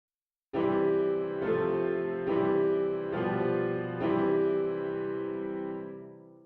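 A major chord is played, sounded five times at a steady pace, each strike ringing into the next before a long, gradual fade to silence.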